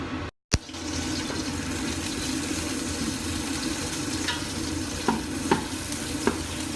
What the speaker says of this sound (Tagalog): pag mainit na, ilagay nyo na yung ating sibuyas at bawang